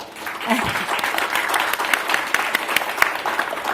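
Audience applause fills a live conversation event, a dense, steady patter of clapping from a crowd.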